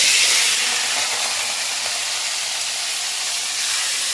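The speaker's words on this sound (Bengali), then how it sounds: "এবারে আলু আর পেঁপেটা ভেজে নেব।" Potato and papaya pieces hit hot mustard oil in a pan, producing a loud, dense, steady hiss of frying, close and unbroken, with no speech.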